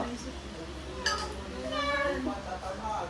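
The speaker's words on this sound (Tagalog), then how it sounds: "Pusa." A cat meows a few times amid a lively family pie face challenge, short cries rising over overlapping chatter and background noise.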